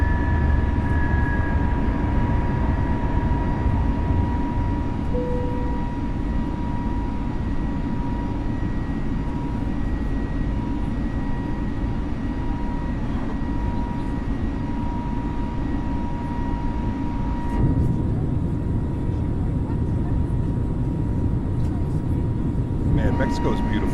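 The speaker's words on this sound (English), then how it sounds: "Long takeoff roll." An FBW A32NX airliner makes its takeoff roll in Microsoft Flight Simulator, a steady, loud engine roar with sustained whining tones that holds throughout and shifts in character near the end.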